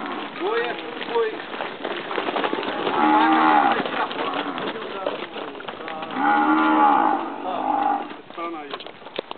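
Cattle on a farm mooing in long, drawn-out bellows, several calls in sequence, loud and close, with people talking between them.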